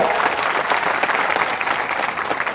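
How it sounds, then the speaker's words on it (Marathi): Loud, dense applause from a crowd at a political rally in Mudkhed, a steady wash of clapping hands that continues without a break. "जोरदार टाळ्या"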